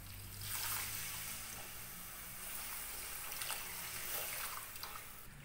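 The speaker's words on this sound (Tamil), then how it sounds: "தேவையான அளவுக்கு கொஞ்சம் தண்ணி சேர்த்தாச்சு இது வந்து நல்லவே கொதிக்கணும்" Water poured into moong dal (green gram) gravy in a pan, a steady wash of trickling and splashing liquid lasting several seconds, moderately loud with no talk over it.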